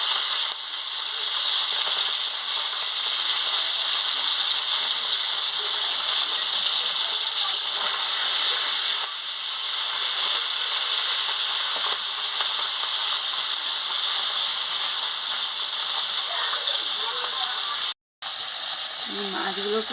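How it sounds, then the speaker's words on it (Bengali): Small chopped fish frying in hot oil give a steady, dense sizzle with crackling that holds evenly throughout, broken by one brief gap near the end. "তেল গরম হয়ে গেছে, কুচো মাছটা দিয়ে দিচ্ছি।"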